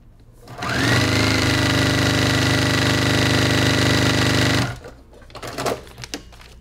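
A sewing machine stitches a seam on a scrappy quilted table runner, a steady close whirring run of about four seconds that stops abruptly, followed by light handling noises of the fabric.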